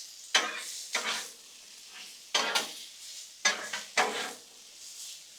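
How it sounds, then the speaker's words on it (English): Peppers and onions cook on a Blackstone griddle, seasoned with tequila lime, as a spatula makes about six sharp scraping strokes in uneven bursts over a faint, low sizzle between them. "One of my favorite things to do besides baking is to cook peppers and onions on the Blackstone."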